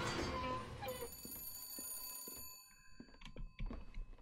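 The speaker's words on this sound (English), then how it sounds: "phone" A telephone rings in BioShock Infinite as a bright, sustained bell-like tone rising out of a noisy burst, trailing off while softer clunks and rustles follow.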